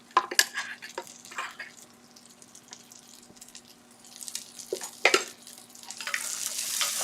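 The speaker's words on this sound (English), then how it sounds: "you want to stir fry a little bit so that the rawness of cashew will go away" Cashews being stir-fried in a pan for shahi paneer, with soft sizzling and intermittent clinks and scrapes of a utensil against the pan, fairly quiet and close.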